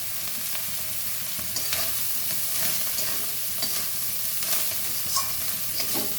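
Chopped khesari greens sizzling loudly in a hot pan, with a steady frying hiss broken by repeated scraping and stirring strokes, close and constant with no voices.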